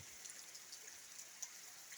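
Light morning rain pattering steadily, faint and distant, with a few slightly sharper drips standing out.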